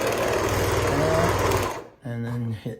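A sewing machine running along a 5/8 inch seam, a fast steady mechanical chatter up close that stops abruptly, followed by a voice speaking.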